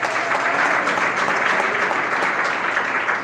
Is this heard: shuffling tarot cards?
no